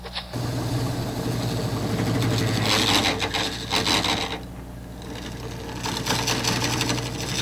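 Hand-cutting wood by saw to form a tenon gives a continuous, close rasping stroke that keeps a steady rhythm, pausing briefly midway before resuming.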